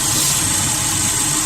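The replacement engine in a 2010 Subaru Impreza runs steadily, a loud, close, continuous engine drone with a mid-range hum and hiss and no clear rise in pitch across the short stretch.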